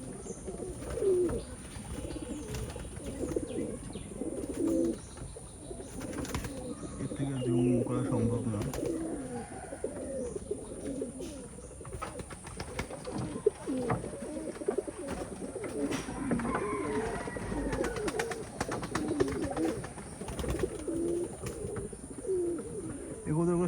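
Old-breed Khulna pigeons coo repeatedly nearby in soft, low, rolling calls, with occasional chirps and faint wing sounds layered over a steady outdoor background.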